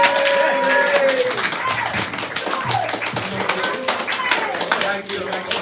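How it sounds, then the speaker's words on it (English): A stand-up comedy show audience claps for a performer, with scattered, uneven clapping mixed with voices talking over it. "Give Jordan another round of applause."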